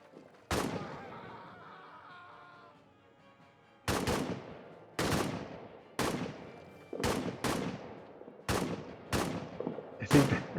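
Grenade blasts and gunshots ring out in a World War I trench-warfare video game, one sharp report followed by a long decay, then a rapid run of about eight loud booming shots, each trailing off.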